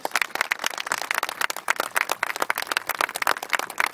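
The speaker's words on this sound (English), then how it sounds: "A round of applause" A crowd at a veterans memorial speech applauds veterans and serving troops with fast, dense clapping that stays loud and continuous from start to finish.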